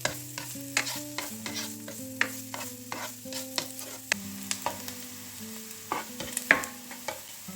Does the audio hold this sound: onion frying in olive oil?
yes